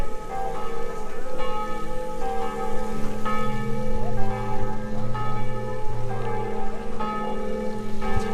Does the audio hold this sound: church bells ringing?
yes